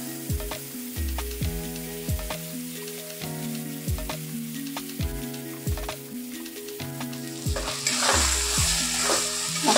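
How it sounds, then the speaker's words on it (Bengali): Onion and garlic paste with a pinch of asafoetida frying in a pan, sizzling close by with repeated scraping strokes of a spoon stirring, growing brighter and louder near the end, no talk. "পেঁয়াজ রসুনের যেসব পেস্টটা করে রেখেছিলাম সেই পেস্টটা আমি এবার দিয়ে দিচ্ছি।"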